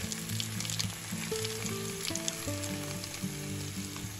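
Young pork ribs marinated in garlic and pepper fry in hot oil with a steady, close sizzle. Soft melodic background music plays under the sizzle.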